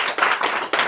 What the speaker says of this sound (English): I think it deserves another applause.